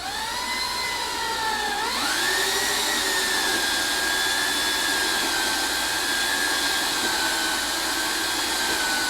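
Epoxy resin being machine-mixed before pigment and dye go in, a steady loud electric whir that rises in pitch after a couple of seconds and then holds constant, no talking.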